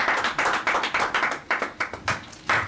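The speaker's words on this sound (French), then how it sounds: "Nous allons acclamer très très fort." A church congregation clapping loudly in a fast, uneven rhythm, many hands striking together close by for a few seconds with no talking.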